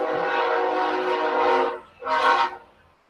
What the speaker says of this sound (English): oh, pardon me, there's a train coming through.